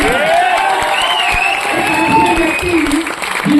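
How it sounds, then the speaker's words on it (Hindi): An audience breaks into loud applause with cheering and whoops, continuous clapping filling the space while a speaker's amplified voice carries over it. "एक बार जोरदार ताली बजाइए।"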